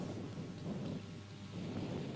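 Steady rain with a low rolling rumble of thunder on a rainy cricket day, a continuous, fairly faint wash of sound with no voices.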